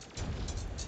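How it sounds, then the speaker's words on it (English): Explosions rip through a base in the video game Terraria, a loud, dense rumbling blast that kicks in sharply and keeps roaring without a break. "Why is the base exploding?"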